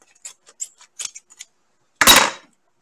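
A package of grass-fed meat being cut open up close: a few small light clicks of handling, then one sharp rasping slice that fades quickly, with no talking.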